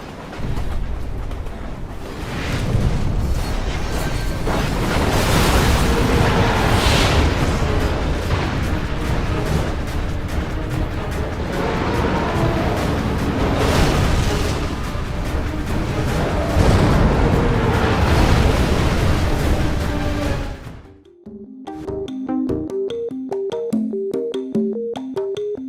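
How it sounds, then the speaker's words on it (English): Railway gun artillery explosions in a video game battle against a huge behemoth, a dense, loud, continuous barrage of booms and rumbling blasts for about twenty seconds, ending in a sudden cut to quieter game sounds. "players utilize the railway gun, a massive artillery cannon, to target the Red Eye's weak spots and ultimately bring down this behemoth"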